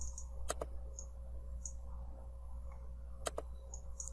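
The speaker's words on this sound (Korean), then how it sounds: "클릭." A computer mouse clicks twice in quick pairs, soft and close, separated by a few seconds over a steady low electronic hum.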